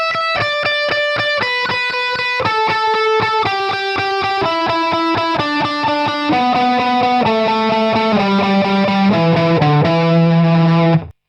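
A distorted 1981 Ibanez Destroyer electric guitar plays a descending line of sustained lead notes, loud and close, each note ringing clearly before the next, with no talk.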